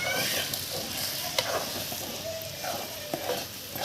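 A single egg frying in a kadai alongside onions on a balcony stove, crackling and hissing steadily up close with occasional sharp pops and light stirring.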